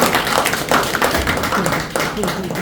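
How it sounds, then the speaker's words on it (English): A small audience at a club meeting claps steadily for a speaker, the claps dense and irregular, fairly close and loud, with faint voices mixed in beneath. "Now, okay, you can clap for me."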